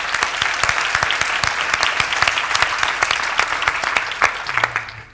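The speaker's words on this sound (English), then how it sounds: "So give yourselves a round of applause." A conference audience of builders claps in a dense, steady round of applause, many hands at once, loud and continuous throughout with no talk over it.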